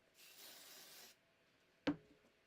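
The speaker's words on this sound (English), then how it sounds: "Okay, so now I'm going to spray it." An aerosol spray can sprays onto a fabric seam allowance in one steady hiss of about a second, followed by a short sharp clack.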